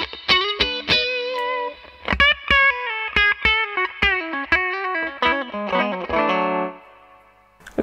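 An electric guitar runs through a Fuzzrocious Feed Me fuzz pedal, giving a thin, treble-heavy tone with little low end as picked notes and short phrases ring out, ending on a sustained chord, close and alone.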